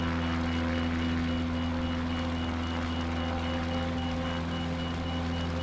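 Repeated warning beeps from an aircraft flying low through a mountain valley in Microsoft Flight Simulator 2024, sounding continuously over a steady engine drone.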